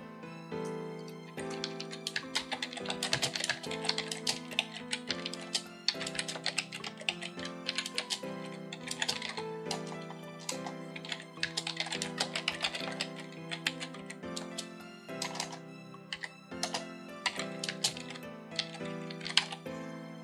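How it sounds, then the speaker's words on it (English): Steady, rapid clicking of a computer keyboard as a question is typed, running continuously over a sustained tonal background with no talking. "Type in your question."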